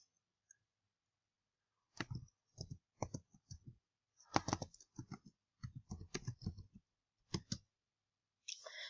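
Keys clack on a computer keyboard in short bursts as a new folder name is typed, crisp and close, with pauses between groups of strokes and no voices.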